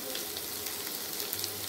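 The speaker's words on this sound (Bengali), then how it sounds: "ভালো করে একটু ভাজতে হবে।" Onion stalks fry in a pan with salt and turmeric, giving a soft, steady sizzle with faint crackles and the occasional stir, all fairly quiet and close.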